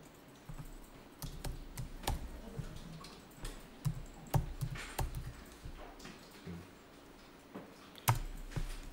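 Keys tapped on a computer keyboard during accounting data entry, a run of irregular clicks and sharper keystrokes at close range, with occasional louder taps like the Enter key, no talking.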